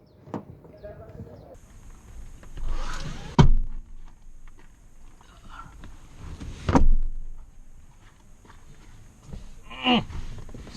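Someone gets into a Mazda CX-3 with a series of rustles and handling noises, punctuated by three fairly close, solid thumps of the car door shutting.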